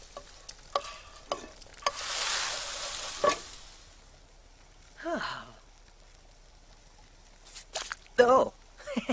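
Cooking sizzle from The Sims 4, a short hissing fry near the start set among scattered clicks, game sounds and brief voices.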